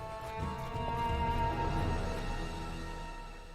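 Horse in the Kingmaker video game, hooves clip-clopping steadily with a neigh mixed in, moderately quiet and alone without talk.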